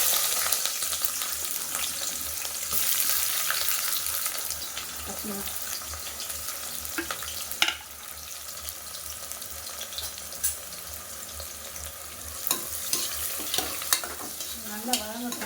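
Onions sauté in a pan at home, a continuous soft frying hiss with intermittent stirring scrapes and a few sharp clinks, some faint background voices underneath.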